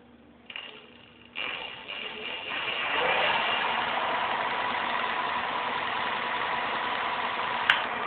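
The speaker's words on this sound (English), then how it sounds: "here is the Bionx Smart-E motor with an external controller and a 48 volt 15 amp hour lithium magnesium battery pack" A Bionx Smart-E electric bike hub motor with an external controller and a 48 volt lithium battery spins up in two steps, then holds a steady mid-pitched whine and hum, loud and close.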